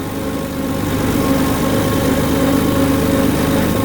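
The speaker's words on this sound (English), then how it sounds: "now you guys just get to hear the sound of a Massey, or at least a 3-cylinder Perkins" A Massey Ferguson tractor with a three-cylinder Perkins diesel engine runs at a steady, loud, low rumble close by, an even throb with no talking over it.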